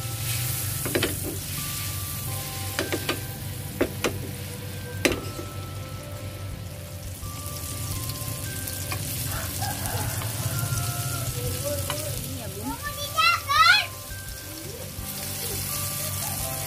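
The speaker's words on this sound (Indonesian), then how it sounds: "Kemudian akan kita kayak panggang gitu di atas teflon. Nah, ini aku akan kasih margarin ya Bun." Banana halves pan-fry in margarine on a nonstick teflon pan, a continuous soft sizzle with occasional sharp clicks of utensils, and brief voices near the end.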